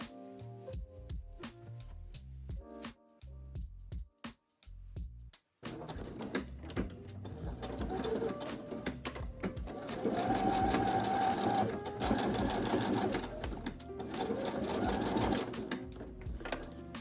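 A sewing machine stitches a hand-basted sleeve into the armhole of a patchwork denim trench coat, starting with short separate bursts, then a long continuous whirring run close by, with no talk.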